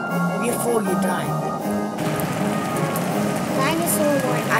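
Acid rain falls in the Roblox Natural Disasters game as a dense, constant hiss of rain under steady talking, with small game sounds and a shift in tone partway through.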